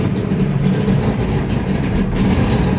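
A 1965 Plymouth Belvedere with a 472 cubic inch 426 Hemi stroker, running on race fuel, rumbles at a loud, lumpy idle with uneven low throbbing pulses close by.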